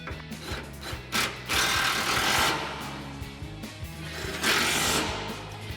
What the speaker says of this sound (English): we'll tighten these down with our 10 mil socket on our impact